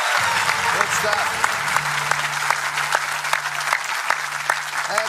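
A quiz-show studio audience on Millionaire Hot Seat breaks into sustained applause, dense even clapping filling the room while a voice speaks over it.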